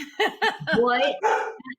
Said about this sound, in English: now my dog's gonna bark